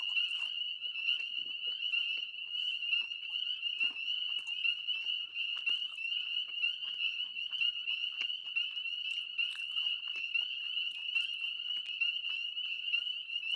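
Woodland frogs in a continuous, deafening croaking chorus, an unbroken high trill layered with faint clicks and scattered calls, steady and close, with no one talking.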